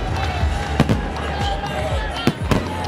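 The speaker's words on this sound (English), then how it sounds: "I'm sure they are now witnessing this firework display that is going off now." Fireworks display bursting over a cricket stadium at the PSL 2020 final in Karachi, with several sharp booming pops at irregular intervals over a continuous rumbling crackle and background noise.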